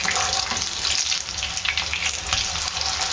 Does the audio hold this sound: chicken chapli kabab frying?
yes